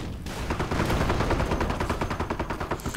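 An MG-42 machine gun in a World War II strategy game fires one sustained, rapid burst of evenly spaced shots, loud and close, with no voices.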